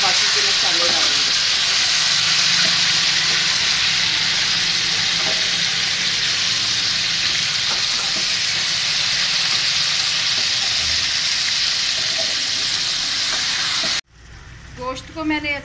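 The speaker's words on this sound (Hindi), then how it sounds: "और इसको मैं अच्छे से फ्राई कर लेती हूँ।" Chicken for a Peshawari charsi karahi fries in a pan with a loud, steady, close sizzle and hiss, an occasional stir breaking through, until the sound cuts off abruptly near the end.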